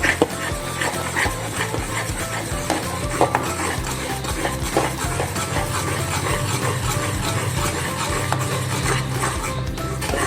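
Mysore pak mixture with oil being stirred in a pan, a close, continuous scraping of spoon on metal with soft sizzling and light clinks of utensils, no voices.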